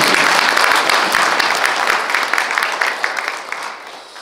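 An audience at an organic industry expo results report in Korea applauds, a dense, loud burst of clapping that gradually thins and fades out.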